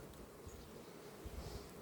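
Honeybees buzzing at a hive during an autumn inspection, a soft, continuous drone that stays even and low in level throughout.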